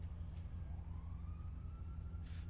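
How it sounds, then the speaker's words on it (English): A faint police siren in a video game wails and rises in the distance over a steady low rumble of engine noise. "Where are those sirens stopped?"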